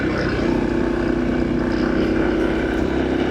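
Motorcycle riding along a mountain road in Bakun, Benguet, its engine droning steadily and loudly up close with heavy wind rush throughout, no voices.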